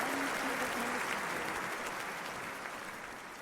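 A capacity crowd applauds at a tennis match in the London 2012 video game, a dense steady wash of clapping that slowly fades, with a brief voice at the start.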